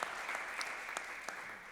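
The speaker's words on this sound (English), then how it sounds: "Give her another round of applause, if you would," An audience applauds steadily, a close and continuous clatter of many hands with a few sharper claps standing out, and there is no talk.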